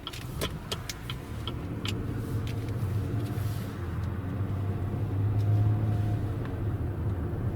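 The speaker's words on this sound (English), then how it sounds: "There's a car coming." A car passes on a snowy road with a steady low rumble that swells and fades over several seconds, heard from inside a vehicle pulled over to the side, with no talking.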